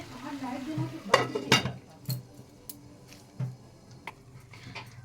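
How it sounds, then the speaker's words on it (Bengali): Pui shak cooked with bori, potatoes and a little sugar is stirred in a pan: a handful of close scraping and clinking strokes come in short bursts, separated by quieter stretches with faint background noise. "আবারও ভালো করে নাড়িয়ে নেব।"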